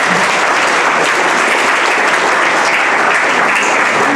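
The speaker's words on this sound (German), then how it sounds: "Applaus für ihn." Dense, loud applause from an audience at an evening show in the PZ-Forum in Pforzheim, a continuous wash of many hands clapping throughout with no break or talk.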